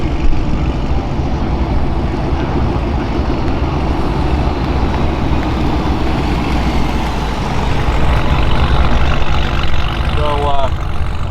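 A 2024 Ford Mustang GT with the 10-speed automatic runs hard down a quarter-mile drag strip, its engine a loud, steady roar that holds close throughout with a brief rising shift near the end.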